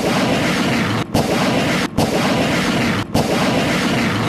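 Artillery shells fired at army barracks in a combat zone boom in a loud, continuous roar of sustained blasts, broken only by a few brief gaps.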